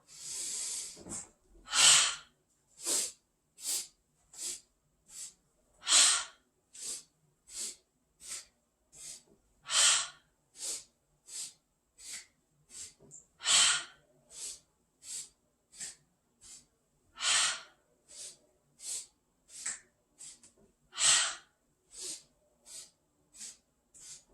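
Breath of joy yoga breathing done standing with feet together: a long series of sharp, rhythmic inhales and forceful exhales, clustered in repeating rounds, close and moderately loud, with no talk.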